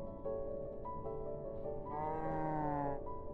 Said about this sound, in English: I hear a cow